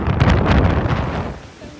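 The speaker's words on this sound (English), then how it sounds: "It's a windy day." Strong wind buffets an outdoor hiking trail, a loud, broadband rushing roar with gusty surges that ease off toward the end.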